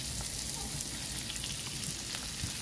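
Shrimp sautéing in butter in a pan makes a constant close crackling sizzle with a low rumbling undertone, steady throughout, no talking.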